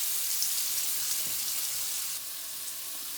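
Steak searing in a hot pan, a dense, steady hiss and crackle of sizzling fat that holds evenly and drops slightly in level near the end, with no talking.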